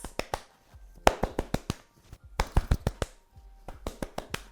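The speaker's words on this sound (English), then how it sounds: "So I will literally just clap my hair in my hands." Rapid, sharp slapping taps in quick bursts, close and dry, with short pauses between clusters, like hands patting together softly over and over.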